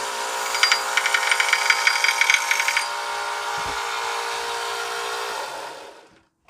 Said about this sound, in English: As you heard, sometimes it rattles.